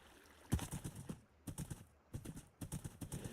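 Horse hooves clip-clop in the Minecraft video game, sounding as quick, fairly faint clusters of hoofbeats in uneven bursts separated by brief gaps, with no voices.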